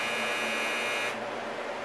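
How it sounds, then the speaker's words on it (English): Clothes dryer buzzer sounds as a harsh, steady electronic drone for about a second, then stops, leaving a faint room hum. "That's the dryer."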